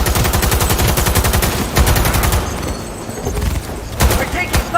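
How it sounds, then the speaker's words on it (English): Sustained rapid gunfire in the Cyberpunk video game, loud and dense automatic bursts rattling continuously with a brief lull before resuming, close and with no talk. "We're taking fire!"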